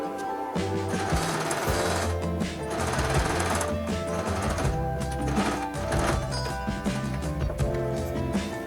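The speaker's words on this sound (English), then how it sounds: "I'm sewing 3 straight lines, one on the right, one on the left, and one straight down in the middle" A sewing machine stitches straight lines through fabric to form drawstring tubes on thrifted clothing, its motor humming with a steady, rapid needle chatter throughout.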